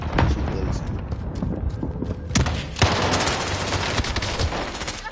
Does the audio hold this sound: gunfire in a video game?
yes